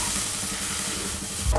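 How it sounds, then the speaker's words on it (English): Powdered turmeric and other spices stirred in a hot pan for curry puffs, a steady close sizzle and hiss with faint scraping of the stirring, continuous throughout and a brief louder knock near the end. "So we just give it a nice stir."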